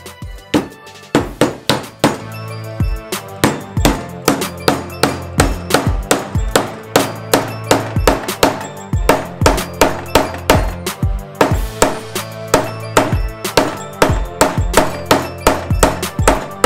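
A wooden hammer drives a wedge into the handle of a Hultafors Classic Mini Hatchet, giving a long run of steady, loud, sharp knocks close by, with no talk.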